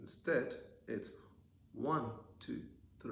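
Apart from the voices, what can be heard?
No distinct noise like a dog, phone or traffic.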